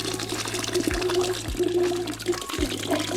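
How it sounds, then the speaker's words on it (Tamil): Ground spice paste is poured into a simmering pot of goat leg soup, giving a soft liquid splash and gurgle. Several brief bubbling plops follow, heard close and at low level. "இப்போ ஆட்டி வச்ச சாந்து உள்ளே ஊற்றுறோம்."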